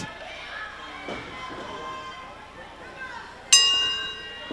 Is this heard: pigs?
no